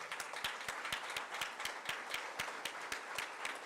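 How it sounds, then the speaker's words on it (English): At a PGDM induction ceremony, a few hands clap in a steady, evenly spaced rhythm, fairly quiet and sparse rather than a full audience ovation. "give a round of applause to you yourself"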